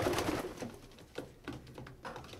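Pigeons in a loft, including a red hen, coo softly in low, repeated murmurs, faint and near, with brief rustling between calls.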